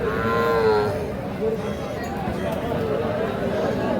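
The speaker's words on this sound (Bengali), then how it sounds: "ষাঁড় বাচ্চা।" A bull calf lets out a drawn-out moo close by, amid a noisy crowd of people talking at a cattle market.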